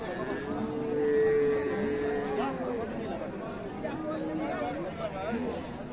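A cow with her calf at Ambari cattle market gives a drawn-out low moo early on, with steady crowd chatter and voices of buyers and sellers around it throughout.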